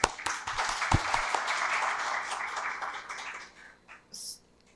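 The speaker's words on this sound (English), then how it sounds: "So a big applaud for both of them." Applause from the audience at an endocrinology society meeting, a full burst of many hands clapping that thins and dies away over the last second.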